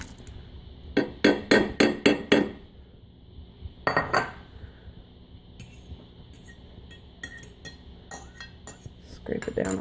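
A spoon clinks and scrapes against a metal pot while corn is mixed into couscous, a quick run of sharp metallic taps followed by scattered lighter knocks and scraping, close up, with no talk.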